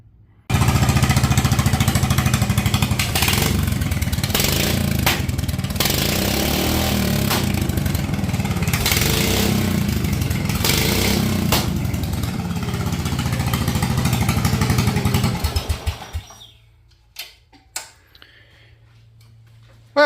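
A Briggs & Stratton single-cylinder engine on a hydro dragster mower, running loud and close with a fast rough chugging beat for about fifteen seconds, then cutting off into a low hum and a few knocks.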